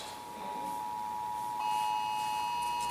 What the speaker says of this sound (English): There goes everybody's phone.